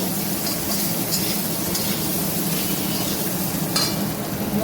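Spices are stirred into jackfruit curry frying in a pan, a continuous oily sizzle with the soft scrape of a spoon churning through the mixture, close and steady.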